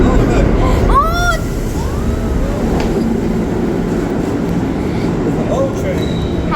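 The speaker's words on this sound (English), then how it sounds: "It's an old train." An old train passes close by as a steady loud rumble that fills the whole stretch, with a few honk-like squeals over it and children's voices chattering throughout.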